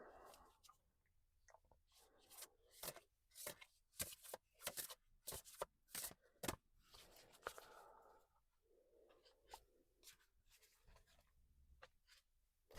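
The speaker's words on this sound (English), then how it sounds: "Shuffle it up a little bit." Oracle cards are shuffled by hand in a quiet room, giving soft, close riffling and sharp flicking bursts in an uneven rhythm, followed by lighter rustles and scattered taps.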